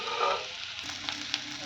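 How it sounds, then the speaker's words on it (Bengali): Spice paste with turmeric frying in oil for a prawn and pointed gourd curry, a steady close sizzle with a few soft stirring scrapes, no voices. "এবার আরেকটু ভাজা ভাজা হোক, তেল যতক্ষণে না বেরোয় ততটাক্ষণ ভাজবো"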